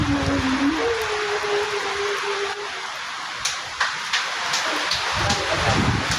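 Typhoon rain and wind make a dense, steady hiss throughout, loud and close, with a faint voice-like tone at the start and a few sharp knocks later.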